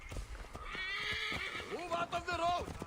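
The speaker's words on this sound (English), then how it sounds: "Oh yeah, I have a horse." Horse in the video game Assassin's Creed Origins giving a clear, wavering neigh, with a few soft hoof clops and low game ambience around it, under a quiet stretch of talk.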